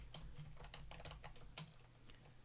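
Typing on a Mac computer keyboard, a quick run of close, soft key clicks in an uneven rhythm over a faint low hum.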